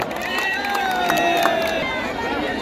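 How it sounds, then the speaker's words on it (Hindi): A crowd cheers and claps at an outdoor kushti wrestling dangal, a loud, steady wash of noise with whistles and shouts running through it. "एक बार जोरदार तालियों की गड़गड़ाहट से स्वागत किया जाए।"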